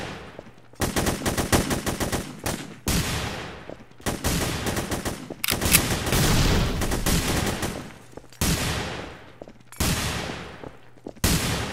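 Rapid bursts of automatic gunfire from the video game Hidden: Source, set at the docks, come in several loud, dense volleys separated by short silences, close and dominating the mix.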